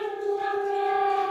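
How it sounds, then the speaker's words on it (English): A dog howls in one long, steady, wavering tone, a clear sustained cry heard fairly close with no speech over it. "That's my dog."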